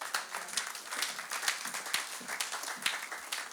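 A church congregation at an online worship service applauds to acclaim the Lord, steady dense clapping filling the room for several seconds without pause, with no voices rising above it.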